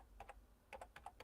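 Keystrokes on a computer keyboard, heard as short clicks in two quick bursts of a few taps each, faint and close, with no talking.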